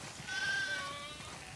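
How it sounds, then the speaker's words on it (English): A sheep bleats once in a farm setting in the video game The Last of Us Part II, a short wavering call heard faintly over steady background ambience. "Wow, that's a lot of sheep."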